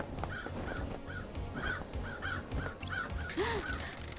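Crows caw repeatedly in the Paradise Killer video game, with several harsh calls spaced through the scene over a steady background bed of game music and ambience, with no talking.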